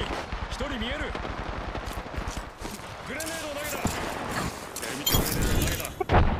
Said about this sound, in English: I hear a gun charging.